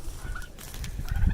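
Turkeys on a grass-fed poultry farm gobbling and clucking close by in a short, busy burst of overlapping calls with no talk.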